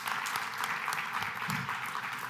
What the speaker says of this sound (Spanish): Así que un aplauso para Daniela